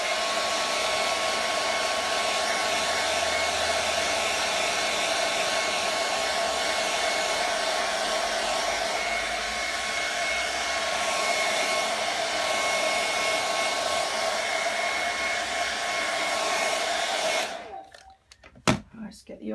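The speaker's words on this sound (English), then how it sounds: "just dry that off a little bit with a hairdryer." A hairdryer blows steadily and loudly for a long stretch while drying freshly airbrushed paint on a Boba Fett helmet, then switches off near the end, leaving a few soft clicks and handling noises.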